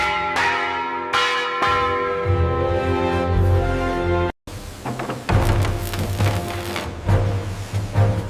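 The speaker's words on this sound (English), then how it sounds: "Testing the bell with a single resonant strike." A bell aboard the historic sailing ship Santa Miria under restoration rings with loud, sustained metallic strikes and long humming decay, more than a single strike, with a brief cut midway before the ringing resumes.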